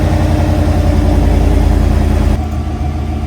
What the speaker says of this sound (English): here's what the stock exhaust sounds like